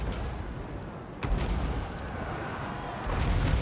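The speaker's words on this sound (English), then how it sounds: "it looks like the cannons maybe shooting at the Knights of the Blazing Sun now" Cannon artillery fire during a Total War: Warhammer II battle, with Empire cannons shooting at the Knights of the Blazing Sun: booming blasts rising from a dense, continuous rumble of battle noise, with a sharper thud near the start and a swell near the end.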